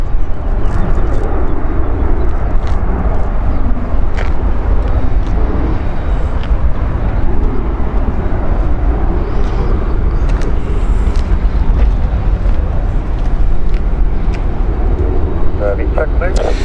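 Aircraft at Zurich airport give a loud, continuous roar with a broad rumble that holds steady for the whole span. A voice is partly heard over it.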